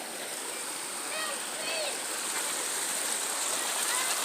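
Floodwater rushes in a steady broadband wash across a yard and downed fences, constant and fairly close, with faint voices and small splashes in the mix.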